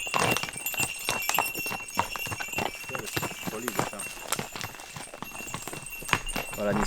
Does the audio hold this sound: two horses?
yes